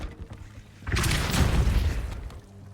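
A Depulso spell cast in Hogwarts Legacy lands as a sudden loud whooshing blast that swells and then trails off over a couple of seconds, with no talking.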